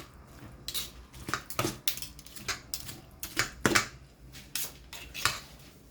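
Mixed vegetables for Tunisian kafteji chopped with two knives held in opposite directions: a run of sharp, irregular, close-up blade strikes on a board, each crisp and brief, coming in quick clusters.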